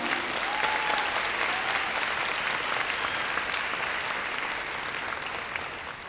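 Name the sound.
graduation audience applauding the faculty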